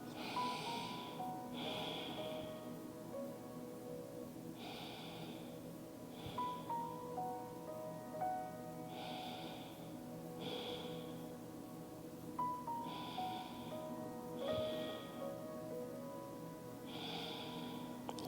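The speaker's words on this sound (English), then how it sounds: "And breathe." Rhythmic breathing through the nose in a yoga pose with forehead toward the ground, soft airy inhales and exhales repeating evenly over a faint steady background of soft music-like tones.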